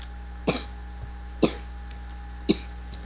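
Three sharp, fairly quiet coughs spaced about a second apart, heard during a Minecraft survival game session with faint background hum between them.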